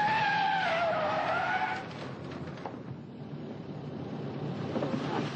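A fast car speeds through the streets of Paris, its engine whining and tires hissing loudly at first, then settling into a softer, steady rushing road noise.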